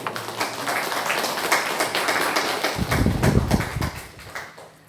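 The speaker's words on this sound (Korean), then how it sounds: "우리 하나님께 영광의 박수를" Scattered clapping from a church congregation during a Sunday service builds into a fuller burst of applause, then tapers off near the end.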